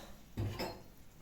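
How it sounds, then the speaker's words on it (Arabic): A spoon mixing onion, tomato and potato in a cooking pot for a Moroccan tagine, one short soft clack and scrape against the pot, faint and close with no voices. "غادي نجيب واحد المعلقه باش نخلط"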